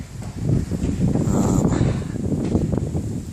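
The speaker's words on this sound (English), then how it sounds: "Nice day, but it's pretty windy." Wind gusts blow steadily across the microphone outdoors at a DIY sauna build, a continuous rustling roar with no talk.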